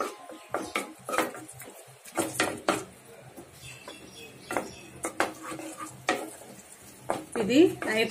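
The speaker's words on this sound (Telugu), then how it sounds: "ఇప్పుడు జీడిపప్పులు 1 స్పూను, నెయ్యి వేసుకోవాలి." Cashews frying in ghee in a pan for butterscotch, with a spoon stirring and scraping against the metal in repeated bursts, close up; a soft sizzle runs underneath.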